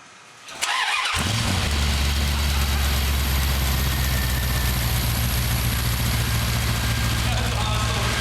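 A 360 Magnum V8 swapped into a Studebaker pickup truck cranks briefly and catches on its first start, then settles into a loud, steady, rumbling idle that continues without a break.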